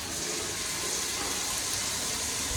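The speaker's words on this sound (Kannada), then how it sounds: "ಒಂದ್ಸಲ ನೀರು ಬಿಟ್ಟು ತೋರಿಸ್ತೀನಿ ನಿಮಗೆ ಯಾವ ಥರ ಬರುತ್ತೆ ಇದು ಅಂತ" Water rushes steadily from Grohe Multi Flow body shower jets in a newly plumbed bathroom, a broad, loud, continuous spray hiss with no pauses.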